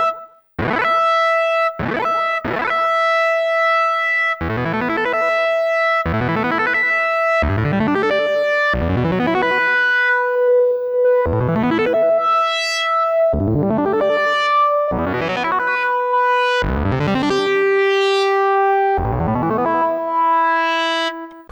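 Volca Keys synth strums a chord again and again, with delay and reverb smearing each note. About a dozen bright harmonic plucks arrive in a steady rhythm and trail into ringing echoes. The sound is loud and close, with no voices.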